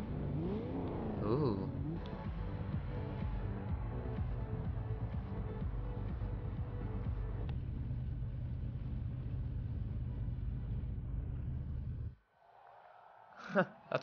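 A Camaro in a Forza Horizon 2 sprint race gives a loud, steady engine drone with revving, held for about twelve seconds before it cuts out abruptly, followed by a brief quiet stretch and a short burst of sound at the end.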